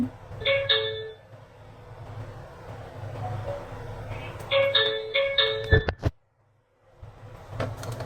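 A doorbell chime rung over and over by an agitated caller at a home in Korea, the two-tone ding-dong sounding close and loud in several bursts, with a brief silence near the end.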